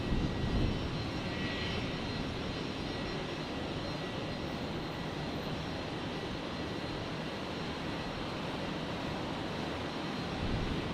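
A Boeing 737 MAX 8 jet with retrofitted winglets at Brisbane airport roars steadily and close, a dense broadband engine noise that swells slightly at the start and end.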